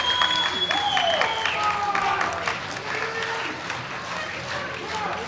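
At a world open powerlifting championship in the heavyweight class, a crowd applauds a deadlift with loud, dense clapping and cheering throughout, while a commentator talks over it and whistles rise from the audience.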